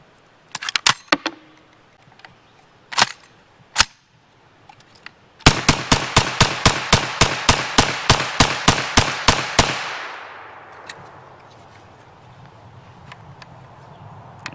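Rapid string of about twenty loud, evenly spaced gunshots from a Nova NAK-9R 9mm AK-pattern pistol-caliber carbine made in Cugir, Romania, running dirty after many rounds, preceded by a few scattered single shots and followed by fading ringing.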